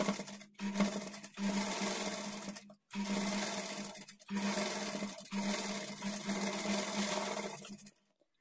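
A sewing machine stitches the folded edge of a blouse lining in several loud, steady motor bursts with a humming buzz, broken by brief pauses before it stops near the end.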